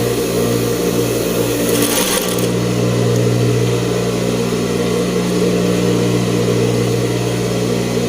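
A sewing machine stitches the collar onto a blouse with a continuous loud motor hum and a rapid needle chatter, close up and running without pause, with no talking.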